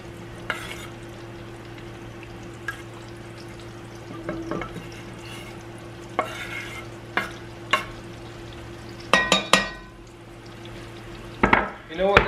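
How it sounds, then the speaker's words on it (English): Smoked brisket stirred into a sizzling Alfredo sauce for fettuccine, with a steady hum under scattered scraping stirs and soft clinks that sharpen into louder bursts near the end. "now we're gonna add brisket"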